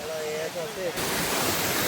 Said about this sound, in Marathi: इकडे धबधबा बघा कसा दिसतोय.